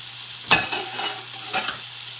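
An avocado omelette fries in a small pan, giving a soft steady sizzle with a sharp utensil clack near the start and another lighter scrape later, close up with no talking.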